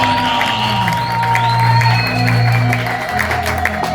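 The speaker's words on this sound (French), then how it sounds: "acclame très fort le Seigneur pour ce terme" A church congregation cheers and acclaims the Lord, a loud, sustained crowd roar with whoops and shouts over a steady low musical drone, fading slightly at the end.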